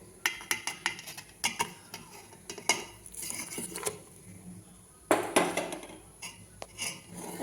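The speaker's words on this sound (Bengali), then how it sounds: "ভালো করে নাড়াচাড়া করব গুড়টা গলে যাওয়া পর্যন্ত" A spoon stirs date palm jaggery in a pan, giving a run of sharp metallic clinks and scrapes in irregular bursts, close and fairly quiet, with a few louder knocks against the pan.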